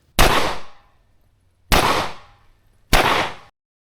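Open-class competition pistol shooting major-power ammunition with no compensator or ports: three loud, sharp shots spaced about a second and a half apart, each with a short decaying echo, no voices.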